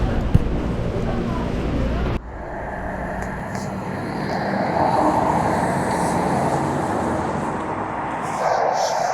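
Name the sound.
subway train riding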